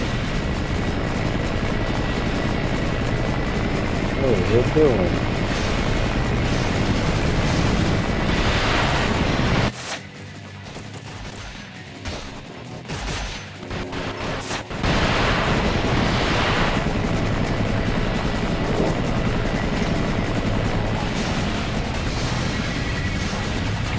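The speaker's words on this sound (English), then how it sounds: "this helicopter is a lot more durable than the first one we fought." Loud, continuous rumbling roar of a helicopter in Ninja Gaiden Black with crashing and blasts, briefly dropping out midway before returning; a voice speaks once.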